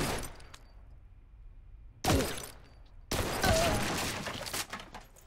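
Gunfire bursts in the shooter Blue Estate: a quiet lead-in, then a sharp, loud volley with debris crackle, then a sustained stretch of heavy shooting and impacts that stays loud to the end.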